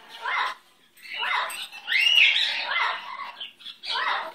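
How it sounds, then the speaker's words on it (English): Pet bird chirps and squawks in loud, close bursts separated by short pauses, with one longer harsh squawk in the middle. "He's my little baby bird."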